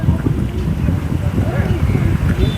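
A boat ride on the Godavari river near Yanam carries a low, steady engine rumble mixed with wind buffeting the microphone, close and continuous throughout.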